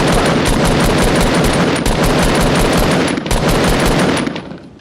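Rapid automatic gunfire in Fortnite rattles off in a loud, dense burst of shots for several seconds, then trails away near the end.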